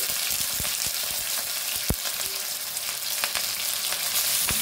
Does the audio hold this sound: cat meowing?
no